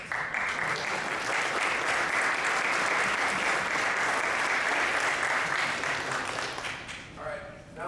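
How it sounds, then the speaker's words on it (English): Sustained applause for the city's bookkeeping staff fills a city council chamber in Valdosta, steady and dense before easing off near the end. "And the bookkeeping types never get a round of applause like they did today."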